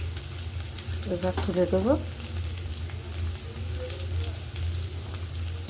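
Onions fry in hot oil with a dense, steady sizzle and crackle throughout, and a stirring scrape cuts in briefly; a voice speaks for a moment over the frying.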